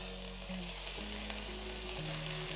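Finely diced medium onion frying in extra virgin olive oil, a soft, even sizzle held under a low steady hum, quiet and continuous without speech.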